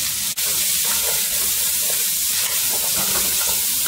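Tough callaloo stems hitting hot oil in a pot, a loud continuous sizzle and hiss that holds steady throughout, with one brief sharp knock near the start.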